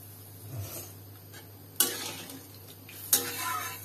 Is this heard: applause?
no